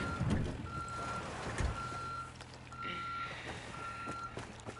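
A truck reverses after a crash in the video game Ghost Recon: steady repeating reversing beeps over a low engine rumble, with a couple of brief thumps early on.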